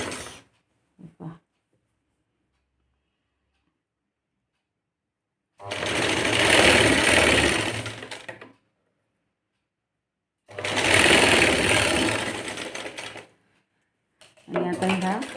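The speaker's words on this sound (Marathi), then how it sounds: "आता इकडे वरती टिप मारत यायचं" A domestic sewing machine stitches a puff sleeve in two loud, close bursts of about three seconds each, separated by near silence, with a third burst starting at the end.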